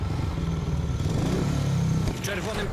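A worn-out speedway motorcycle engine in a FIM Speedway Grand Prix video game at the Swedish GP, a steady droning roar running the whole time, close and fairly loud, with a short shift in tone near the end.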